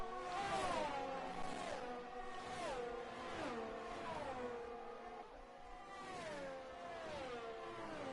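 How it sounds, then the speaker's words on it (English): An onboard Formula 1 car engine from the F1 23 video game at Qatar wails continuously, climbing through the revs and dropping at repeated gear shifts, steady and close with no voices. "Absolutely love that onboard shot and the sound of the engine."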